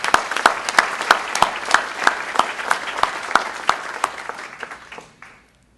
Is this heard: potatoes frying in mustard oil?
no